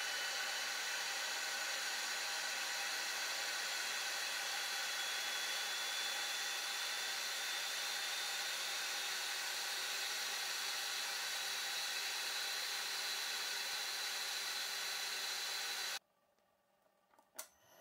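VEVOR 3kW spindle motor running at speed, a loud, steady, high-pitched whine with an airy rushing hiss that holds unchanged for about sixteen seconds, then cuts to near quiet with a few faint knocks.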